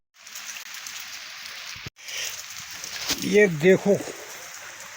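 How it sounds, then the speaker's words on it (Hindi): Rain falls steadily outdoors, a continuous hiss of drops close by, while someone speaks over it near the end. "मौसम भी देखो, बारिश लगी हुई है"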